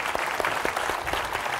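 Studio audience applause on a televised quiz game show, a short burst of dense, even clapping from a crowd.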